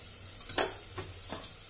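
Peas frying in a pan with coriander and turmeric give a soft sizzle, while three quick stirring scrapes of a spoon come close together and quiet, with no talking, as yellow rice is cooked.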